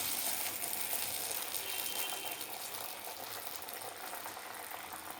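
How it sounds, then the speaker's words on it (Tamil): Masala vada frying in hot oil, a dense, steady sizzle and bubbling close by that eases slightly toward the end, with no talk. "அமுத்திட்டு அப்படியே எண்ணெயில் போட்டுக்கோங்க"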